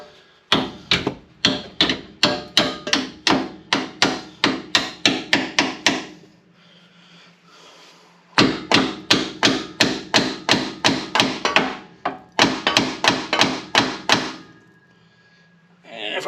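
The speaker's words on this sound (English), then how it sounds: "So, get up in here with a hammer." A hammer drives sleeves into place during a 4L80E transmission swap on a 1972 Buick Centurion. Sharp, rapid metallic blows land close and loud in quick bursts, with short pauses between the runs.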